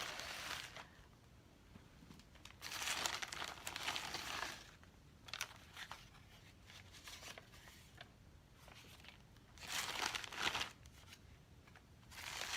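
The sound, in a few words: unwrapping a package containing a skein of yarn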